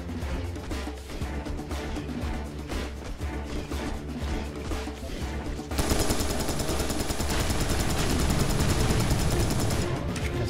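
Continuous rapid gunfire rattles in the first-person shooter Serious Sam 3: BFE, dense and unbroken, and it grows louder and thicker partway through with no talking over it.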